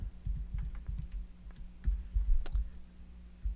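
Keys tapped on the keyboard of an ETC Eos lighting console in a theater, a quick uneven run of soft, close clicks with brief pauses.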